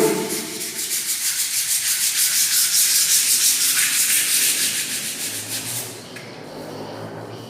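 Sandpaper rubbed back and forth over raised edges of old paint left after paint remover, a close, rhythmic rasping scrub of quick strokes that slows and fades near the end.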